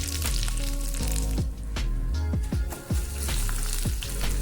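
Dried red chillies and curry leaves crackling in hot oil, a loud sizzle with rapid spitting pops and repeated scrapes of a spoon stirring through the pan.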